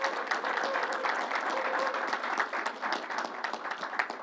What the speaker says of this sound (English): Let's give him a round of applause for all his good help.